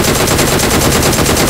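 PUBG Mobile automatic weapon fire, loud and close, with rapid repeated shots in a steady rhythm throughout a short burst.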